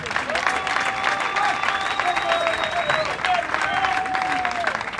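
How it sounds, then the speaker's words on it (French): Crowd applause and cheering at a political rally for the UDPS party in the Democratic Republic of Congo, steady and loud throughout, with shouting voices and whistle-like tones rising over the clapping. "Acclamez, applaudissez très fort."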